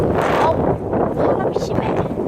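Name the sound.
strong wind blowing into the microphone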